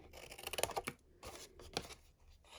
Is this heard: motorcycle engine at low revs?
no